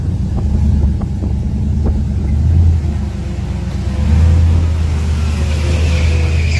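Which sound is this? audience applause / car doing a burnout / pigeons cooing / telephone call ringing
car doing a burnout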